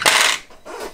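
A brief, harsh burst of a power drill biting into metal, a loud grinding whir that drops off and then surges again.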